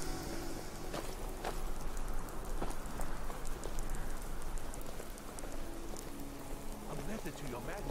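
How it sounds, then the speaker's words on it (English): Heavy rain pours steadily in the video game Skyrim, a dense patter of drops on surfaces throughout, with occasional louder splashes and a voice talking faintly underneath. "As it's raining so badly"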